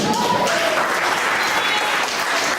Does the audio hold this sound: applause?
yes